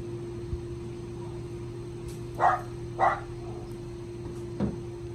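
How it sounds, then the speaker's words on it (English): Several dogs bark in short, separate bursts, about three sharp barks spread over a few seconds, moderately near, over a steady electrical hum and low background noise. "Those dumb dogs barking at you."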